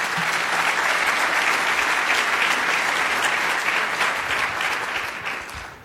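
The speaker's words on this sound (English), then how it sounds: "Please give him a round of applause." Audience at a Rotary luncheon clapping in sustained, dense applause that holds steady for several seconds and then begins to fade at the end.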